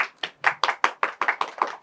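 Roughly a dozen sharp, close hand claps at a quick, slightly uneven rhythm, a small burst of clapping from a concert audience with no voices over it.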